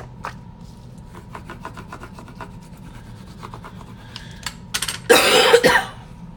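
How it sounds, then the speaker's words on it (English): A bone folder rubs paper in faint, repeated short strokes, then a louder, harsher burst of scraping near the end. "Then I'm going to take my bone folder and burnish them really well."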